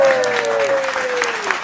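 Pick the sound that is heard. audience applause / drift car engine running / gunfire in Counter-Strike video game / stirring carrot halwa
audience applause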